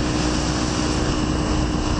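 An F/A-18 Super Hornet fighter jet passes overhead as a steady, loud, broadband engine roar that fills the whole stretch without a break.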